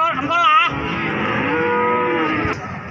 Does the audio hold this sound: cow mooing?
yes